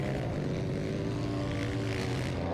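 A Rackley Racing Yamaha flat track motorcycle at Castle Rock TT practice gives a steady, loud engine roar with a rough, buzzing drone that holds through the whole stretch, with no other voices.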